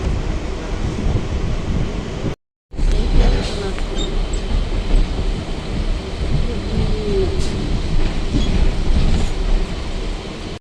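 A train at Kalinarayanpur railway station gives a steady, loud rumble of rolling stock throughout, broken by a brief moment of silence partway through.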